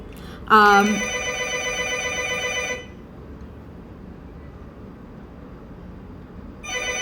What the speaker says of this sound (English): My phone is ringing. It's gonna ring like 4 times.